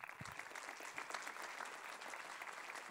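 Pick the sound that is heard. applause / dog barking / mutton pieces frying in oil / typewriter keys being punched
applause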